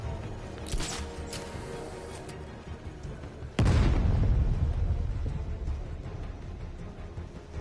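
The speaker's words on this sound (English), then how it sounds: "Grenade!" Grenade blast in the video game Batman: Arkham Knight: quieter game ambience, then one sudden loud boom midway with a deep rumble that slowly fades.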